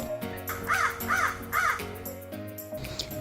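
A crow caws three times in an even rhythm, loud and close, set over soft music in a children's animated tale about a thirsty crow.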